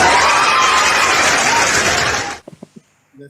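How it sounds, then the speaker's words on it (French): Loud dense applause and cheering from a live audience fill the first two seconds before cutting off sharply, followed by a few brief quiet sounds and a voice. "Merci pour les applaudissements."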